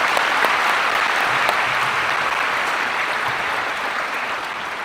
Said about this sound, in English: Please join me in a round of applause for these individuals.